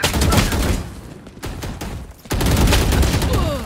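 Rapid automatic gunfire in Valorant during a round, loud close bursts of shots that rattle on almost without pause, broken by a brief lull, with no talk over it.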